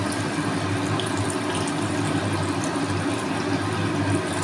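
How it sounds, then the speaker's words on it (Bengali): Water pouring into a cooking pot of Bengali sukto vegetables, a steady, even rush of liquid at close range with a faint low hum underneath, continuous and unbroken throughout. "আরও কিছুটা জল দিয়ে নিচ্ছি"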